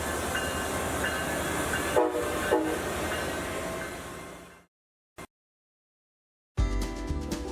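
Amtrak Pacific Surfliner train rolling along the California coast, a steady loud rumble of wheels and carriage noise, then a sudden cut to silence before the rail sound briefly returns.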